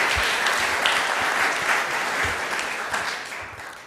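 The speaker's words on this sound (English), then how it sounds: "Well, you can clap." A church congregation at a Sunday service breaks into steady, full applause that continues evenly for several seconds before beginning to fade.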